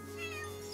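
A cat meows once in the fantasy role-playing video game Chained Echoes, a short soft call laid over steady, tonal background music.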